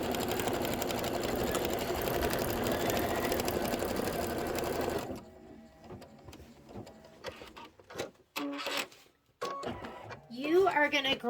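An embroidery machine stitches the placement line for a mitten appliqué on a cozy bench pillow, whirring steadily and loudly, then giving way to quieter, intermittent mechanical clicks and thumps near the end.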